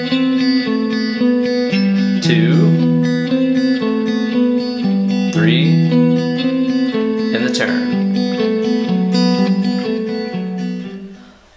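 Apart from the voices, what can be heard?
guitar hybrid picking classical theme and turnaround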